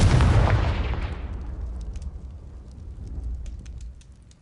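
A Confringo fire spell blasts in Hogwarts Legacy, fighting spiders in a cellar: a loud, deep explosive boom that rolls away into a long, fading rumble with faint crackling debris.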